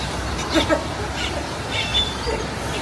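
Grackles calling in a habitat, a few short squawks and chirps against a constant background murmur of ambient noise.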